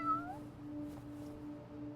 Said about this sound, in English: Naughty kitty.